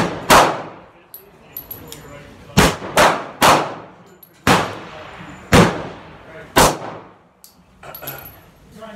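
A Glock pistol fed from a 50-round drum magazine fires about eight sharp, close shots at irregular intervals, each with a short echoing tail, with some faint background talk between shots.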